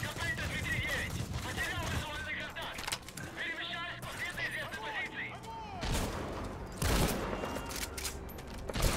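Gunshots in Metal Gear Solid V: The Phantom Pain, a few sharp cracks spread across the clip under steady game noise and ongoing talk.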